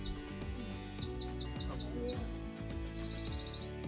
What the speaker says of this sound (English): That was a wren